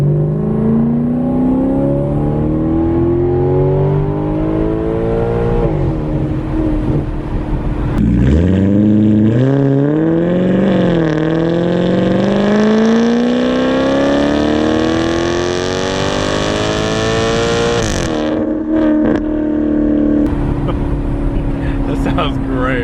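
A straight-piped Maserati GranTurismo engine revs repeatedly, rising and falling in pitch with a loud, raspy exhaust tone that fills the whole stretch before settling back to a throbbing idle near the end.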